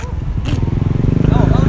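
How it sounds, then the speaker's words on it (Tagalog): Several motorcycles rev and rumble together at a drag race event in Bayawan City, a dense, loud engine drone with rising throttle blips, with voices talking over it. "Mga motor na nagbobombahan."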